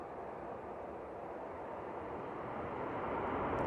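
An aircraft landing at Manchester Airport in stormy Storm Amy winds, a broad, distant roar of engines and rushing air that builds slightly toward the end.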